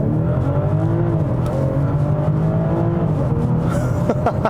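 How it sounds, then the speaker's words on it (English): A 2019 BMW X5 straight-six with eight-speed automatic and all-wheel drive pulls hard from a standstill, a steady loud engine drone rising in pitch, with a faint tire noise near the end. "I wasn't expecting this straight six to feel that quick off the line."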